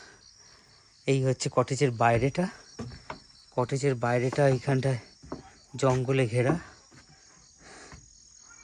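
Steady high-pitched chirping of crickets fills a jungle night outside a forest cottage, continuous and moderately loud, running under a voice that speaks in bursts.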